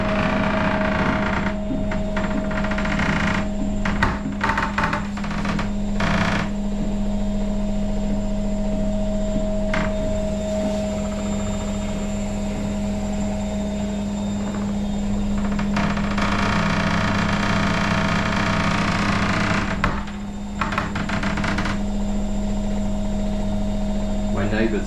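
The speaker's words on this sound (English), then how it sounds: "My neighbours love this washing machine." A washing machine runs loudly and steadily in a Berlin apartment, its continuous motor hum and churning filling the space, with intermittent clatters and shifts in the drone throughout.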